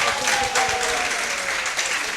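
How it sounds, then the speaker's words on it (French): Sustained, dense applause from an audience at the closing award ceremony of a national press week in Côte d'Ivoire, a steady wash of clapping with some voices mixed in throughout. "On applaudit"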